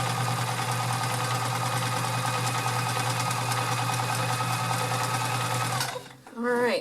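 A vintage Kenmore 1560 convertible free-arm sewing machine runs steadily through multi-stitch and triple-stitch zigzag, a loud continuous mechanical whir that stops abruptly near the end, leaving a brief quieter tail.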